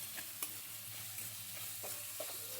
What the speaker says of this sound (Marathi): आता याच्यात आपण कांदा टाकू। आता हे कांदा आहे ना हलकासा लालसर होऊन द्यायचा।